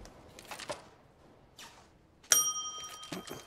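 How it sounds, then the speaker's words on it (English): A single bell strikes sharply during a Counter-Strike match broadcast on the map Dust2, its bright ring hanging on and fading over faint background noise. "No more ringing the bell. It's actually quite annoying now."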